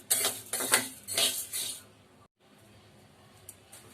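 Urad dal being dry roasted in a pan, close rattling and scraping of lentils stirred against metal in several quick bursts, then a quieter stretch with faint scattered clinks.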